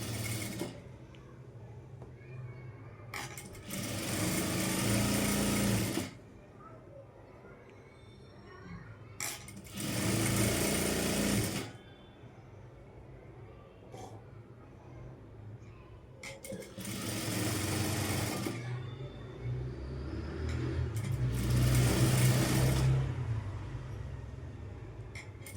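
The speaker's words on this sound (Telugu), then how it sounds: "జాయింట్ వచ్చిన దగ్గర జాగ్రత్తగా స్టిచ్ చేసుకోవాలి, లేదంటే పైపింగ్ థ్రెడ్ మీద ఎక్కింది నీడిల్ అనేది." A sewing machine stitches a cross cut blouse at the piping joins in four bursts of rapid running, each several seconds long, separated by quieter pauses with faint handling sounds.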